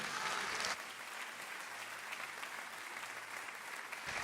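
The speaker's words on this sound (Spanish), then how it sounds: "Dale fuerte el aplauso a Dios." A church congregation claps hard and steadily during a sermon, the dense, loud applause filling the room for several seconds and barely easing off.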